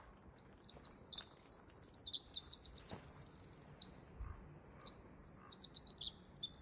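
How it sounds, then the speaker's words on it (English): Songbirds in a redwood grove at Grizzly Creek Redwoods State Park give rapid, high, overlapping chirps and trills that run almost nonstop, moderately close over a quiet forest background. "we have a lot more songbirds here in the redwood groves"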